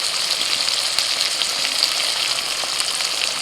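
Ground spices fry in a pan with a little water for a vegetarian khichuri, giving a continuous, dense, close hiss and crackle without pause.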